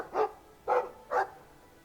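A Mabari war dog in Dragon Age 2 barks three times at an even pace, with clear barks close up over a quiet background.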